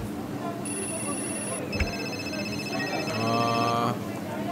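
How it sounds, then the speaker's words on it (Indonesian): Telephones ring in the video game Food Truck Simulator, several electronic rings and tones overlapping in steady repeating bursts while a person talks over them. "berisik banget suara telepon."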